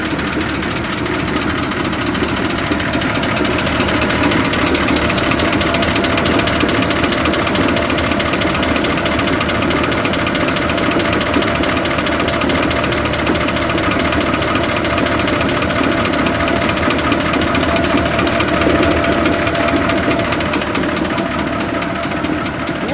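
A Transit Liner bus engine idles steadily, a loud, continuous, even diesel rumble with a faint knocking texture. It runs unchanged throughout with no voices.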